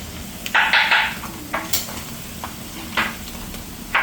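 Fish frying in a pan, a soft steady sizzle broken by louder scraping bursts and a few sharp knocks of a utensil against the pan.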